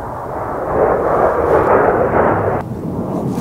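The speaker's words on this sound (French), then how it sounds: "il y a Jean-Michel qui vient de passer avec son avion de chasse." A fighter jet passes overhead as a loud, broad roar that swells from about a second in, stays steady and then cuts down abruptly near the end, with no talking.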